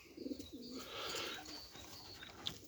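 Racing pigeons coo inside a loft: a couple of short, low, throaty coos close by early on, followed by softer rustling and a single sharp chirp near the end.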